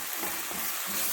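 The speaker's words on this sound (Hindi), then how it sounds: "बस इसको अब मैं 2-3 मिनट भूनूंगी" Steady, dense sizzle of aloo chicken masala with browned onions frying in a pan, a continuous close hiss with no pauses.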